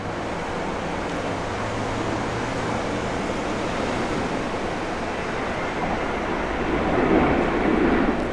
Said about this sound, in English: A beautiful livery Qantas taking off.